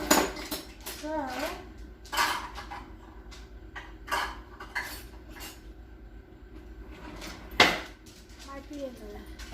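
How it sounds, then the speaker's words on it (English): Dishes and cutlery clatter as they are put away in a home kitchen, with sharp clinks and knocks scattered across the clip and one louder clank near the end, alongside faint speech. "these are just not where I usually put them when Hubster puts dishes in"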